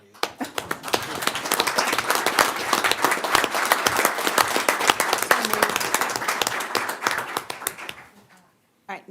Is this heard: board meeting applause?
yes